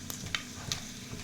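Whole spices (cinnamon, cardamom, cloves, star anise) and a bay leaf drop into hot oil for Hyderabadi chicken dum biryani, giving a soft, close sizzle with a few light clicks and stirring taps, no voices.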